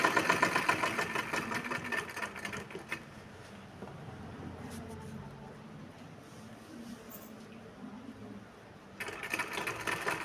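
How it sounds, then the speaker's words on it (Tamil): A sewing machine stitches a blouse sleeve during tailoring, a close mechanical whir in runs, loudest at the start and again near the end with a quieter, steadier stretch between. "அரை இன்ச்சு இருக்கிற அளவுக்கு தையல் போட்டுக்கலாம்."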